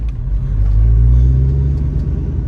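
Ford Mustang (SN95/New Edge) idling to warm up after a coilover install, a steady close, deep engine rumble that swells slightly in the middle and holds without talk.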